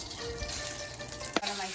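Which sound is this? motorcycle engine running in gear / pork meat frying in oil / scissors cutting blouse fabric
pork meat frying in oil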